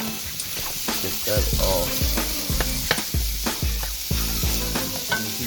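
Ground beef sizzles loudly in a hot pan while being stirred for a mushroom meat sauce, with a steady frying hiss broken by repeated scraping strokes and a person briefly speaking over it.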